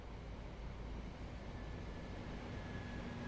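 Train arriving at a platform in a train simulator game, heard as a faint, steady rumble of wheels and engine with a thin tonal whine running under it.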